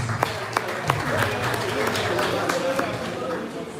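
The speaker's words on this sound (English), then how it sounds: "A round of applause for that, please." Audience applause at an entrepreneurs and creators event, a steady wash of clapping filling the room with scattered sharper claps, loud and continuous with some voices mixed in.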